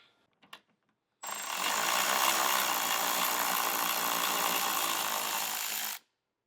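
A power tool runs on 10mm bolts holding the front bumper of a 2024+ fourth-generation Toyota Tacoma, a few faint knocks followed by a steady, loud, continuous whir lasting about five seconds before stopping abruptly.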